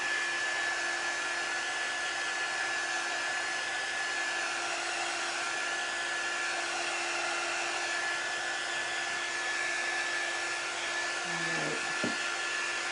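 A hair dryer blowing on paint on a sign, a steady, close, continuous airy whine and roar with an unchanging level, ending in a brief click and clunk.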